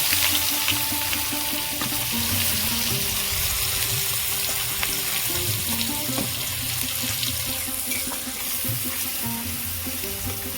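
Cumin, whole garam masala and chopped onion fry in oil for egg biryani, giving a steady, close, loud sizzle with a watery hiss that runs the whole way through, with no one talking.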